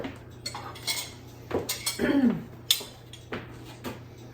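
A metal serving spoon scrapes and clinks inside a pot of meatballs in spaghetti sauce, with a scattered series of close knocks and scrapes against the pot and plate, plus a wet squelch in the middle.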